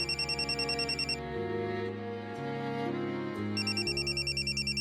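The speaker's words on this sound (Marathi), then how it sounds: "वासूचा फोन आहे" A telephone rings with a repeating electronic ringtone in rapid pulsing bursts that pause briefly midway and then resume, over soft background music.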